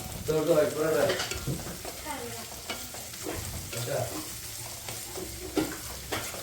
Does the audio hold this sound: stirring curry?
yes